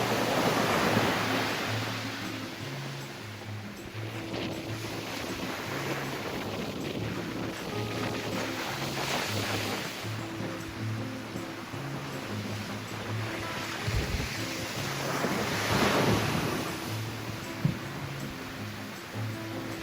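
Ocean waves wash onto Joe's Beach in Maui, a steady surf roar with two slow swells of breaking water, heard alone at moderate distance.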